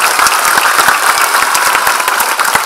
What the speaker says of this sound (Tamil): அவருக்கு மிகப்பெரிய கைத்தட்டல் கொடுக்கணும்னு